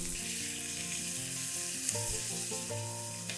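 Turkey legs fry in butter in a hot pan, giving a steady, close sizzling hiss that runs throughout beneath a melodic tonal background.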